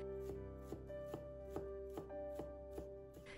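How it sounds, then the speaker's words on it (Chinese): Knife chopping fresh ginger on a cutting board, mincing slices into fine bits: steady, evenly spaced thuds about every half second, close and clear, with no voices. "片切好以后，再改刀切成姜丝，最后切成姜末。"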